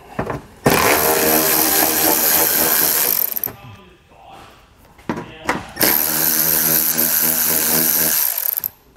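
A hand ratchet loosens 8 mm fasteners beneath the rear fascia of a 2012 BMW X5. Loud, close bursts of rapid clicking come in two long runs, separated by a brief quieter pause with light handling noise.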